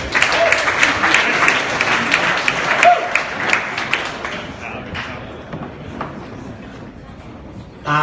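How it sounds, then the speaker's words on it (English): Audience applause at a startup pitch night fills the room, loud at first and then thinning out, with a few sharp claps and thuds near the end. "So big round of applause."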